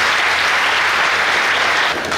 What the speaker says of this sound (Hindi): तो एक बार अपने सभी गुरुजनों के लिए जोरदार तालियां बजाओ